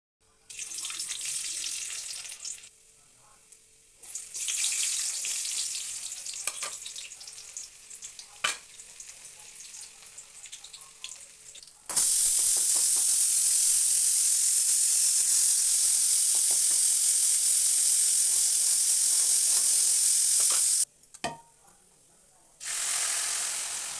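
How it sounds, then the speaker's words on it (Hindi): Dal lentils fry in a pan in a home kitchen, a loud, bright sizzle that comes and goes between quieter stirring, then swells into a long steady hiss before cutting out and returning briefly. "और जो दाल है ना उसको भी फ्राई कर लेती हूँ।"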